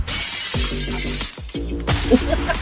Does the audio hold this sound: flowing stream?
no